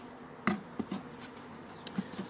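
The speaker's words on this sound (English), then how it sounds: "Nice calm bees." Calm honeybees at an open beehive, a soft buzzing hum close by with a few brief louder buzzes of individual bees passing near, and light handling sounds.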